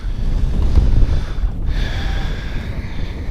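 Gusty wind roars across a Wisconsin lake, buffeting the microphone on a small fishing boat with a steady, loud rumble and rushing hiss.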